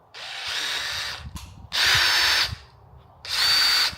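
DeWalt 20V Max brushless cordless 1/2-inch drill, model DCD793, whirs up in three loud close bursts with short pauses, its motor pitch shifting as the trigger is squeezed.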